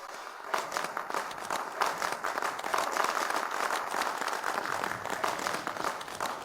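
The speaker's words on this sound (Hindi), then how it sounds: "कृपया तालियों के साथ उनका स्वागत करें" An audience applauds steadily to welcome a woman onto a stage, a continuous even wash of many hands clapping at moderate loudness from start to finish.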